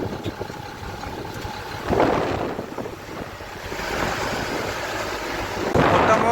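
Rain and gusty wind roar steadily, with two deep rumbling swells of thunder rising and fading, one early and one near the end.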